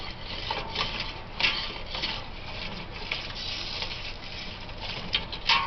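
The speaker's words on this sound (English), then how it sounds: "Scrape and stir and scrape and stir." A roast being scraped and stirred in a pan makes continuous rough scraping and rubbing with light sizzling patter, steady and close for several seconds.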